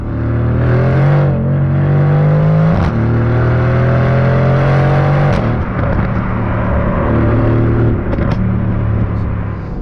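A loud Aston Martin Vantage sports car engine revs up repeatedly, its pitch climbing and dropping in several surging pulls, close and continuous with no talking.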